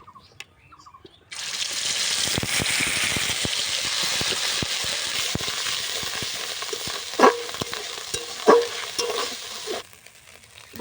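Ground spice paste hits hot mustard oil with cumin and bursts into a loud, steady sizzle that runs for several seconds, with stirring clinks near the end before it cuts off quietly.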